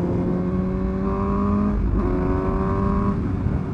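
A 2017 Suzuki GSX-S 750 motorcycle engine revs hard and close, its rising whine dipping briefly at a gear change before climbing again, loud and continuous.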